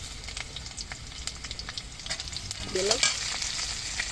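Spices tempered in hot oil for a Bengali fish curry with drumstick and potato, giving a steady close sizzle with scraping stirs and a sharper crackling burst near the end; one brief spoken word.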